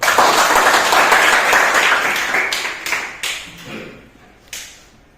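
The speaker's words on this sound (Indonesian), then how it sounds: "Oke, beri tepuk tangan dulu" Students in a classroom give a round of applause that starts as a full burst of clapping and gradually thins to a few scattered individual claps before fading out.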